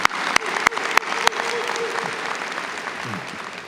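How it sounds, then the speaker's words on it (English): Applause at a fall university commencement ceremony: a few sharp claps at first, then dense, steady clapping from a large crowd that stays even and moderately loud. "Please join me in honoring all of them with a hearty round of applause."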